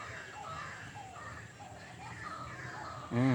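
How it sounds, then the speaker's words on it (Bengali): A white-breasted waterhen calls near a pond with mahogany trees, faint repeated hooting notes at some distance over quiet outdoor ambience, before a nearby voice starts speaking at the end. "ডাহুক পাখি ডাকে।"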